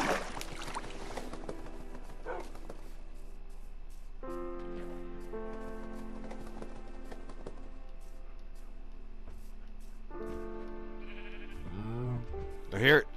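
Sheep bleating in Minecraft, a few wavering bleats over game background music, one loud bleat right at the end, with a player's voice talking in places.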